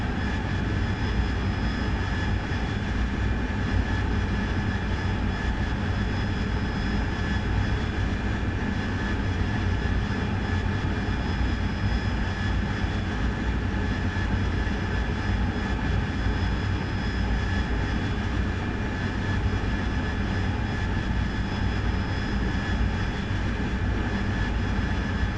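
Steady military jet engine roar in DCS World as the throttle is eased back, a dense continuous drone with a faint high whine, loud and unbroken with no voices.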